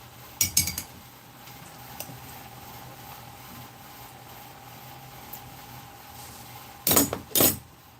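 A spoon stirring a root beer float drink in a glass, a few quick clinking bursts at the start and two more near the end, separated by a quiet stretch with faint hum.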